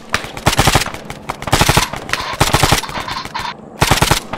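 Machine gun fire in a military video game: several short, rapid bursts of loud shots separated by brief gaps, punchy and close.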